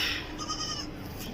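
A mother goat with three kids at a livestock market in Karachi gives a short, close bleat, with other farm-animal noise mixed in and no talking.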